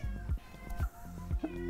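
A cat meows several times in short, repeated calls, fairly close and clear, with a low background hum and no talking.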